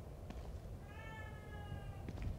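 A cat gives a single drawn-out meow in the horror video game The Evil Within 2, faint and tonal above a low background hum, with no one speaking.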